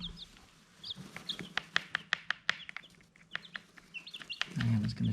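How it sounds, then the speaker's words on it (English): Newly hatched baby chicks in a brooder under a heat lamp give a rapid burst of high, sharp peeps close by, clustered and overlapping, with a few soft clucks and a low rustling thump at the end. "And it's going to show the baby chicken."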